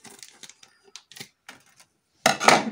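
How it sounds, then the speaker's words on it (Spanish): Scissors snip open a cinnamon sachet with a few small, sparse clicks, followed by a brief louder rustle of the packet at close range. "vamos a abrirlo con unas tijeras"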